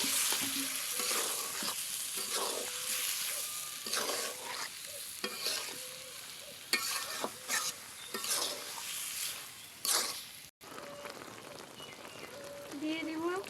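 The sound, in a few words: water added to sizzling jackfruit masala in pan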